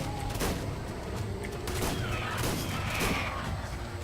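Gunfire rattles amid dinosaur combat in ARK: Survival Evolved, with a dense, continuous barrage of shots and crashing impacts layered with creature noises, loud and close throughout.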